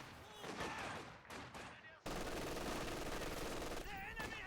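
Dense, loud machine gun fire and battle noise from the World War II strategy game Company of Heroes 2, heard as sustained rattling bursts with a sharp jump in intensity midway and a voice talking over it.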